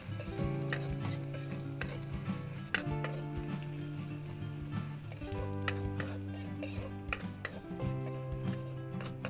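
Garlic and ginger sauté in a pan for a fish dish, with a soft continuous sizzle, repeated metallic scrapes and taps of a utensil against the pan, and a low steady hum underneath.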